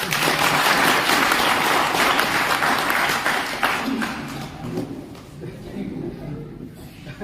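A crowd applauding loudly, the clapping dense and sustained before gradually thinning out, with a voice speaking over the fading applause.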